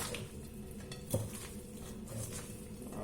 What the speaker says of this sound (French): on mélange doucement